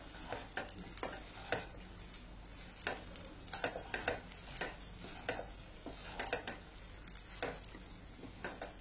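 Mint rice is stirred and mixed in a hot pan, with repeated scraping strokes of a spoon against the pan over a steady, close sizzle.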